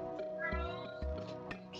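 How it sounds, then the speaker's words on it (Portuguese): A cat meows repeatedly near the microphone, several drawn-out complaining calls in quick succession, fairly clear and loud with little else around them. "E o gato fica reclamando a vida."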